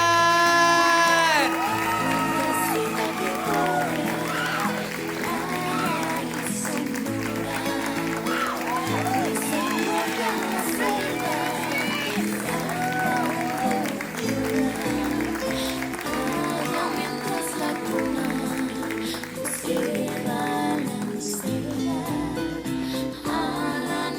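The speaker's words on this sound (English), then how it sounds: "Help me give a huge round of applause to Isis Gracian!" Audience applause and cheering with whoops at a high school fashion show, a loud, sustained crowd sound layered over steady music throughout.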